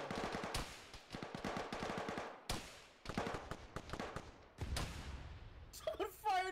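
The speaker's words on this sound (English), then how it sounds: "Someone fired an AT at that house!" Bursts of automatic gunfire crackle in an Arma-style military game, rapid repeated shots in several loud volleys with sharp onsets and decaying echoes, and a final fluttering blast, while voices talk over it.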